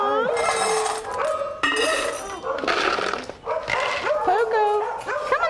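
Several dogs on a farm with many horses, barking, yipping and whimpering in overlapping bursts, loud and close, with a person calling to them over the noise.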